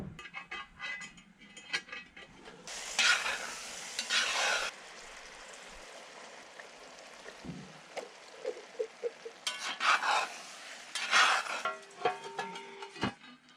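Stirring food in a pan over a camp cooking setup, with bursts of scraping and clinking of a utensil against the pan between quieter stretches of low simmering, close and moderately loud.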